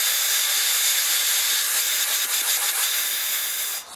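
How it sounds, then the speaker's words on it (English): Compressed air from a blowgun hisses steadily and loudly through a pipe on a Mercury outboard motor during impeller service, a continuous close rush that drops off sharply at the end, with no voices. "Now I'm going to spray some air."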